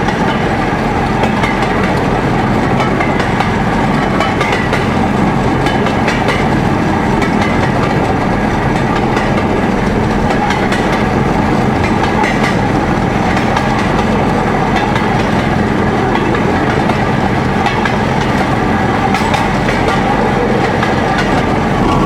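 Continuous rumbling ride on a rail trolley with rapid, irregular clacking of wheels over staggered rail joints, loud and close throughout.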